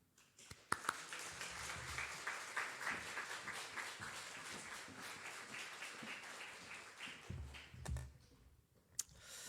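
Congregation clapping in a church to welcome a pastor to the front, a faint, dense patter of hands rising and fading over several seconds, with scattered louder claps and brief low thuds near the end.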